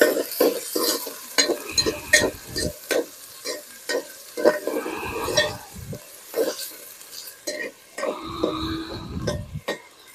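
Whole spices, ground fennel and ginger for a fresh pea rice pulao are stirred in a hot pan. Repeated scraping strokes run over a steady sizzle and fry, close and fairly loud, with no one talking.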